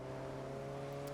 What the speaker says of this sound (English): the cars do sound good in this game